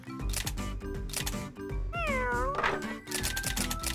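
Cat meowing over steady rhythmic background music, a wavering drawn-out meow rising out of the mix midway and another fainter cry after it.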